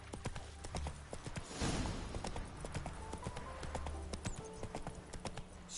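Roach, a horse in The Witcher 3, gallops along with a steady, fast clip-clop of hooves that runs throughout, fairly close and clear, over a continuous ambient game backdrop.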